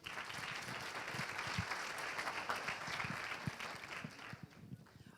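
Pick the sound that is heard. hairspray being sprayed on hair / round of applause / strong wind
round of applause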